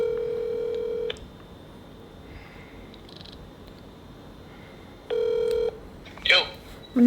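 A phone gives two long steady dial or ring tones, the first lasting about a second at the start and a second one midway, set apart by quiet room noise, with short bursts of other sounds near the end.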